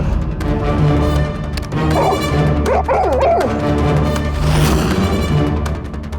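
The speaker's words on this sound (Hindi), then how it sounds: "ये कुत्ता ये बटन दबाने से भौंका क्यों?" A dog barks several times in quick loud bursts, mixed with whimpering yips. The barks sit over a steady background hum with no talking.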